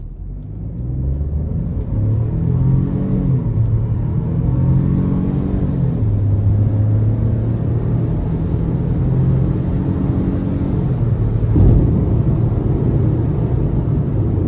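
A 2025 Ford Bronco Sport Big Bend with a 1.5-litre turbo three-cylinder accelerates onto an interstate. The engine rumbles steadily and climbs through several rising sweeps as it shifts up, heard from inside the cabin.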